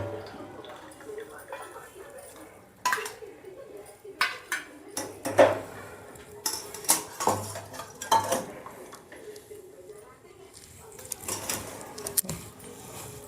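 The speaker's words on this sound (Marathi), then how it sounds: "यामध्ये थोडंसं मीठ टाकून मिक्स करून घेऊया" A spoon scrapes and clinks against a bowl as chutney is stirred with salt, giving irregular, close knocks and swishes for several seconds, with quieter stretches in between.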